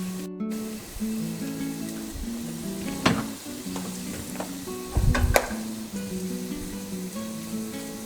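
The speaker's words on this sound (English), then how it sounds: "I'm going to be adding a dash of these spices to the onion that is cooking." Onion cooks with a dash of added spices in a pan for Iranian noodle stew, a steady close sizzle with occasional stirring scrapes and brief louder spatters.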